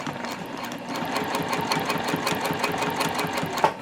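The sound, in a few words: sewing machine stitching seams of a zip top tote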